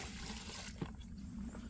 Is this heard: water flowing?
yes